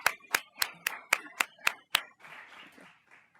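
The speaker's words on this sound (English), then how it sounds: "So let's actually clap for them" About eight crisp, evenly spaced hand claps from a forum audience ring out close and distinct, then give way to softer scattered clapping that tapers off.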